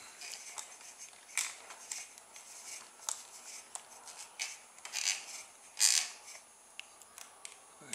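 Small plastic clicks and creaky winding rubs come from a rubber-band-powered toy car being wound up past its anti-rollback ratchet, close and quiet in scattered bursts with no voices.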